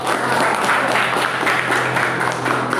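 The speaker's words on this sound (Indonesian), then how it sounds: "Tepuk tangan buat semuanya dong." A short burst of group clapping in a classroom-style session, dense and even for about three seconds at moderate loudness, with a faint low hum beneath.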